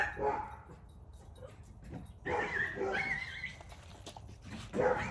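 Several dogs bark and yip in bursts in the background outdoors, mid-distance and uneven, with some whimpering mixed in.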